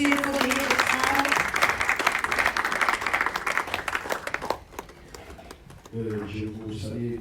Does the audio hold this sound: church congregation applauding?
yes